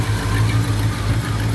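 A 1951 Mercury flathead V8 runs with a steady, loud low rumble and even throbbing, held at a slightly raised idle through the short stretch.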